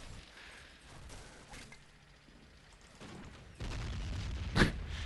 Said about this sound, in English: the heavy machine gun itself is giving us quite a bit of trouble